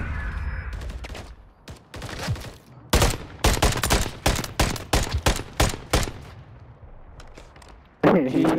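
Gunfire in Modern Warfare 3 ranked play, a series of loud, sharp shots in quick irregular bursts, some rapid like automatic fire, with quieter game sounds between volleys.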